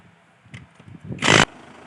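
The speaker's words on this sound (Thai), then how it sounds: "อันนี้ผมใช้เป็นบล็อกไฟฟ้าง่ายหน่อยสะดวกหน่อยครับ" An electric impact wrench on the wheel nuts of a farm tractor gives a short, loud, sharp rattling burst after a few soft knocks, then quickly falls quiet.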